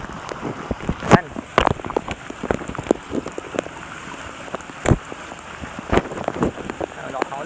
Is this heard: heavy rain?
yes